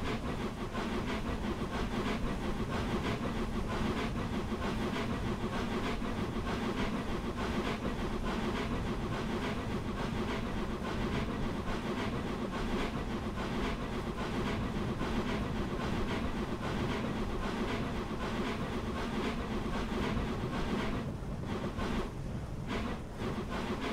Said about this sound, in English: Hopefully we'll get to hear some of the chuff loops